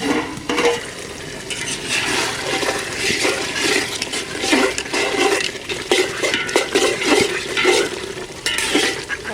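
Duck meat being stirred in a handi pot over a village fire, with continuous frying sizzle and repeated scraping and clinking of a spoon against the pot, loud and close.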